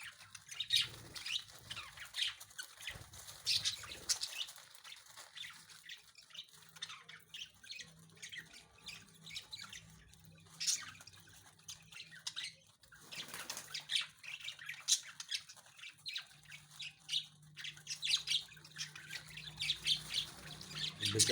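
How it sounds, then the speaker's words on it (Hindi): Pet parrots at a feeding squawk and chirp continuously over a long stretch, with scattered wing flutters and rustling, the calls moderately close but soft in level, and no voices. "बहुत ही प्यारे तोते हैं मेरे। मोहब्बत से पाल रखे हैं मैंने इनको।"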